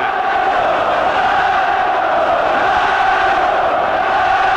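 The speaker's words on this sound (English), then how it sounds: "Crowd trying to urge Benn on with chance of Nigel." A large boxing arena crowd roaring and chanting to urge on Nigel Benn in his fight with Steve Collins, a dense, sustained wall of voices at steady loudness throughout.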